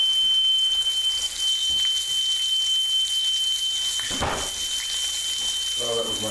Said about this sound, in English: oh, that was my smoke alarm.